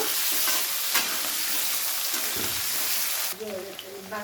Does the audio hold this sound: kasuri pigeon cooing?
no